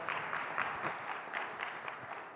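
Audience at a motivational talk claps, a soft, steady patter of many hands that sounds distant and fairly faint throughout.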